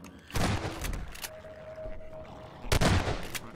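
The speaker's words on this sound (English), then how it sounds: "Wait, I hear shooting." Gunfire in the video game Half-Life 2 comes as two bursts of sharp shots, near and fairly loud, separated by a quieter stretch with a steady electronic tone.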